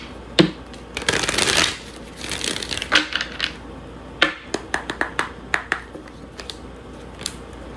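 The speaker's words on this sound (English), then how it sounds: "we'll do 3 cards. 3 cards on the future predictions" A deck of tarot cards is riffled and shuffled up close, a dense rustling burst followed by softer shuffles and a run of crisp individual card snaps and flicks.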